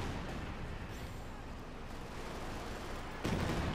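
Rocket and gunfire from a Company of Heroes 2 battle, a dense continuous rumble of distant shots and blasts with a louder burst of fire near the end.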